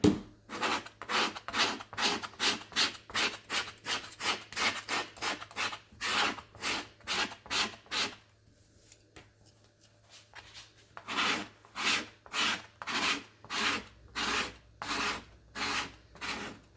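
Repeated rhythmic rubbing strokes of a cleaning pass over a Cricut cutting mat, fast even scrubs with a brief pause midway before the wiping resumes, close and steady with no voices.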